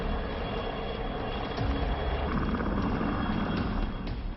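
A steady, loud rumble and whir of a Coast Guard helicopter flying nearby during a sea rescue in Cyclone Biparjoy off Gujarat, continuous engine and rotor noise with no voices.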